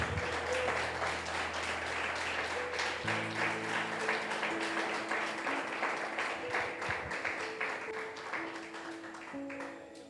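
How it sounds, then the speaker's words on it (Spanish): A church congregation claps for the Lord in a sustained round of applause at moderate distance, with music playing steadily underneath. "Denle un fuerte aplauso al Señor."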